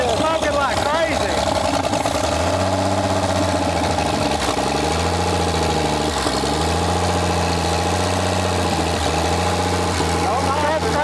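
A 1962 AMC Rambler engine runs roughly after decades of sitting, struggling to idle, its low rumble surging and sagging in uneven waves throughout, loud and close, with a voice talking over it.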